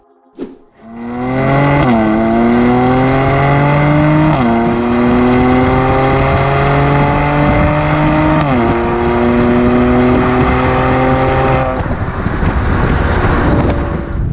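A 2019 Mercedes-Benz C43 AMG accelerating hard in full automatic mode, its engine note rising loud and close through several upshifts with brief dips at each change, ending in a wind-rushed cruise.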